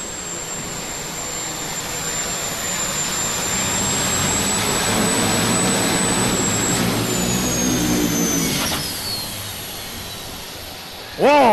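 The pulling tractor Cujo roars at an outdoor tractor pull with its throttle stuck open, a loud sustained engine howl that holds, then sags and winds down before a sharp burst at the end, with a commentator talking over it.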